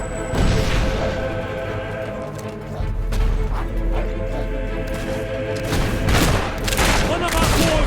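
Repeated gunfire cracks and booms in the Fable III video game, dense volleys layered over a constant rumbling backdrop with a burst of sharper shots near the end.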